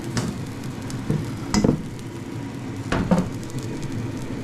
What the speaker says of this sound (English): Can you hear the sizzling? They're sizzling nicely.